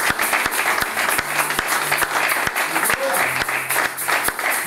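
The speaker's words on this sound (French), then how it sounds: "Est-ce que nous pouvons acclamer très très fort pour les hommes de Dieu?" A church congregation at a Sunday service applauds for its ministers, a dense, steady burst of clapping from many hands filling the room throughout, with scattered sharper claps standing out.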